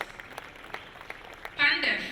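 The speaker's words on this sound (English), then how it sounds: "Please, a round of applause." Audience applause at a citizens' summit, breaking out loudly near the end after a stretch of a speaker talking over a quiet hall.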